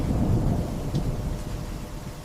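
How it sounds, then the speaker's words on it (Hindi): A thunderstorm brings a deep, continuous rolling rumble of thunder over steady rain. It is loud and close, with no voices. "इसी रात गरज के साथ बारिश हुई"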